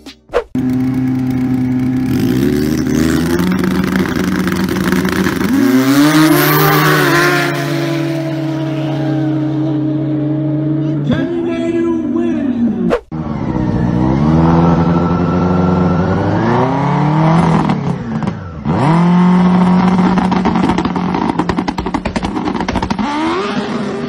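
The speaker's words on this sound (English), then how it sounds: "ever seen a turbo snowmobile drag race? Well, here is one." Turbocharged snowmobiles at a drag race, their engines roaring loud and close, climbing in pitch through hard revs, with a brief cut before a second full-throttle run.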